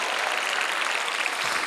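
Congregation applauding at a peace-unification prayer rally held at the War Memorial in Yongsan, a dense, steady wash of many hands clapping throughout with no voices standing out.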